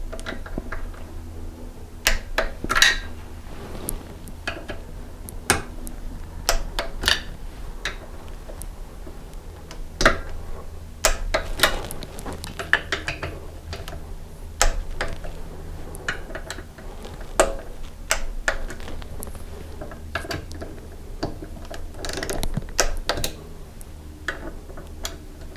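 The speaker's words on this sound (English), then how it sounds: "So I set my torque wrench to 72 inch-pounds, and then in a crosswise pattern I just tighten everybody up." A torque wrench tightens the timing cover bolts on a 1983 BMW R100RS, producing scattered sharp metallic clicks and ticks of varying loudness over a low, quiet background hum through the whole stretch.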